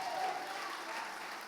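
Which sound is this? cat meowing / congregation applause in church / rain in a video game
congregation applause in church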